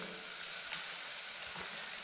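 Onion sizzles in a hot pan with a steady, soft frying crackle and a couple of faint stirring scrapes, heard briefly and quietly on its own.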